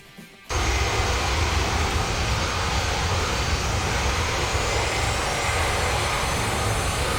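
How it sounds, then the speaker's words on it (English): Engines of a Virtavia C-17 jet in Flight Simulator X throttling up from near silence into a loud, steady roar that holds for several seconds without talk. "Engines are loud."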